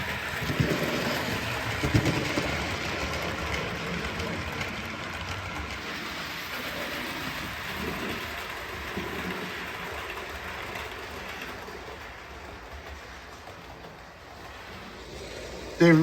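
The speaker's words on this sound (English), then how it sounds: "This is actually as fast as the computer allows this train to go." A steady video game train rumble runs throughout at the game's top speed, with a soft rhythmic clatter, even and continuous, at moderate volume with no pauses.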